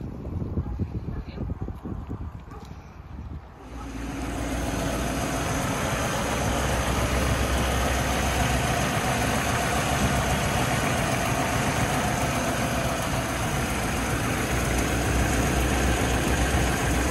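An original small-block 1961 Chevrolet Impala engine cranks and fires after a few seconds, then settles into a steady, fairly close idle with wind noise over it.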